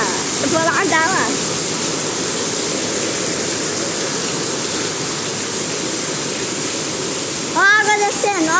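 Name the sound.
heavy rain with water running down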